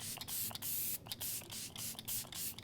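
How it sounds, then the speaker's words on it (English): Setting spray is misted onto a face in a rapid series of short, soft hissing spritzes close to the microphone, about ten quick pumps with no talk. "It is going to mist your face in the best way possible."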